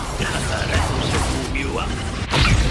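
Incendio and confringo spells in Hogwarts Legacy, a video game: whooshes, cracks and a sharp crash come up loud and close, layered over shouted voices and combat noise.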